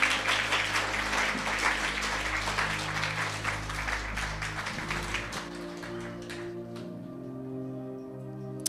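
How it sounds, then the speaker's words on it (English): Church congregation clapping for the Lord after a prayer, a sustained wash of many hands over a low organ-like sustained tone, fading out near the end as the music lingers. "Could you give the Lord a hand clap, please?"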